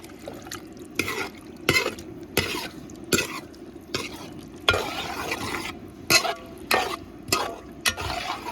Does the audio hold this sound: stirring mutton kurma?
yes